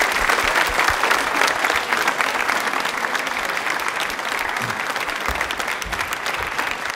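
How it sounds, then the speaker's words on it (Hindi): An audience at a televised quiz show for Birsa Munda Jayanti and Janjatiya Gaurav Divas claps steadily and loudly, a dense, even applause that lasts the whole stretch without pause. "तालियां जोरदार बजाएं प्रतिज्ञा के लिए एक बार"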